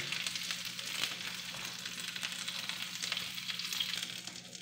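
Fenugreek seeds, curry leaves and dried red chillies sizzle steadily in hot oil for a tempering poured over a ripe banana pulissery curry, a close, continuous crackling hiss with no talking.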